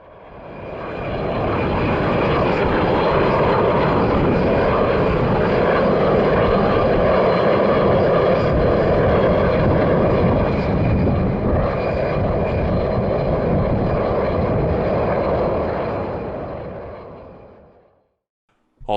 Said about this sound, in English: They based one of them here in Calgary, which was especially nice to see given how rare 737-600s are around the world.